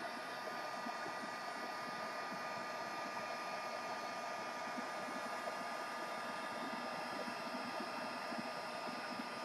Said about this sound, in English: I want to just stop real quick and kind of heat set the color